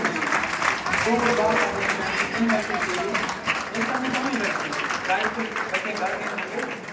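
An audience claps for children at a get-together, a steady round of applause under a voice speaking over it.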